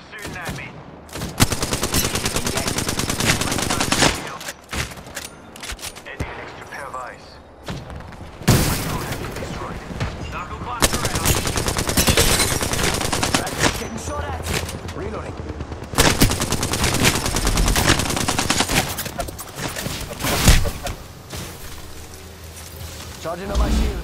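Rapid automatic gunfire and bursts of shots in the battle-royale video game Apex Legends go on nearly without a break, with short pauses, booms and thuds, while game voices talk over the shooting.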